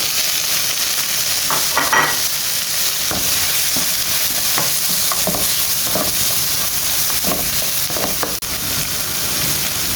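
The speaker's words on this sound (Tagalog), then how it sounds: "Sunod ko na yung sibuyas. Aking luya. Lagay ko na yung tomato." Onion, ginger and tomato sautéing in a pan, a dense continuous sizzle with repeated spatula scrapes stirring the pieces, loud and close with no voices.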